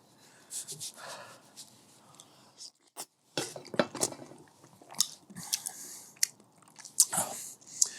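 Someone bites into and chews a giant mango slice from a 2 kg fruit, giving close, wet crunching and smacking bites in irregular bursts, with a voice heard briefly.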